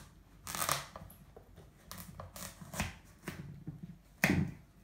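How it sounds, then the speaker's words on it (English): A sharp knife chops a pumpkin into large chunks, giving scattered crunchy cuts and thuds on a board, close and fairly quiet, with no talk. "I'm going to take my pumpkin and I'm going to first of all cut it up into large chunks"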